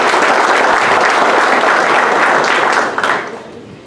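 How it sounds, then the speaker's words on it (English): Warm round of applause from an audience at a high school sports awards ceremony, loud dense clapping sustained for about three seconds and then tapering off quickly. "please give a warm round of applause to Devin Bush"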